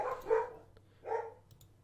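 Pet dogs barking indoors, two short clusters of close barks separated by a brief pause, at moderate loudness, with no voices.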